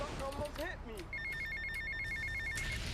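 Telephone ringing in the Grand Theft Auto: Vice City video game, a bright electronic ring repeating steadily for about a second and a half over game background sound, following a brief passage of talk.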